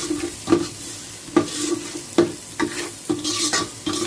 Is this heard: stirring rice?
yes